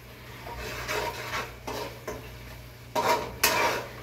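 Spices being stirred in a cooking pot with a metal spatula, heard as several scraping, rubbing strokes against the metal, with a faint sizzle underneath and no talking.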